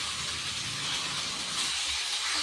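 Mutton keema sizzling in a pan as it fries, a steady broadband hiss of frying heard close and continuous with no talking.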